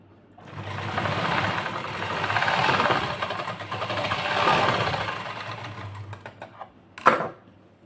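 A sewing machine stitches a piping seam, running in a steady, close whir for about six seconds with slight speed swells before slowing and stopping with a sharp click.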